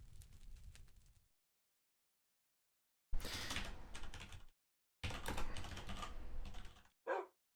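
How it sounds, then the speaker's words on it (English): Computer keyboard typing in quick bursts of clicks, separated by silent gaps, fairly close and alone, ending with one short isolated burst. "I'm terrible at typing and talking at the same time."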